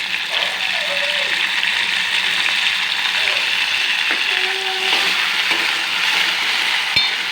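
Mint leaves and green chillies sizzle steadily in a pan, with a constant close hiss and occasional scraping stirs while a voice talks over it.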